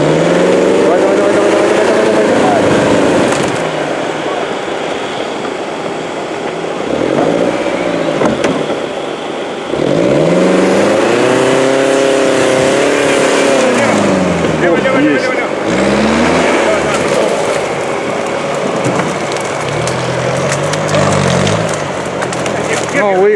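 The Khizhak off-road vehicle works its engine hard while climbing among trees on rough terrain, revving up and down in loud, repeated swells over a constant mechanical roar, with occasional voices.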